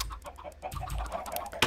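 Chickens clucking and squawking in the video game Minecraft, several birds calling in quick irregular bursts, fairly loud and close, with one sharp louder squawk near the end.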